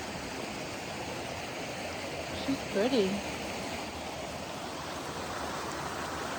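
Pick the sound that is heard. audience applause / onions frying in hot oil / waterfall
waterfall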